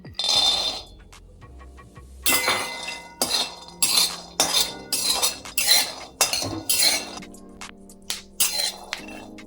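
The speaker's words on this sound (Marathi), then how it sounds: "आपण दाणे भाजून घेऊ" Peanuts dry-roasted in a pan for sesame-peanut vadi, heard as close bursts of rattling, clinking stirring as the nuts shift against the metal, with short quiet gaps between strokes and no voices.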